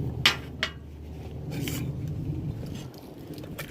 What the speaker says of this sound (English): it's I believe it's an old MRS cook kit